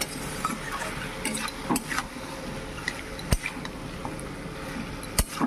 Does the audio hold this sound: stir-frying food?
yes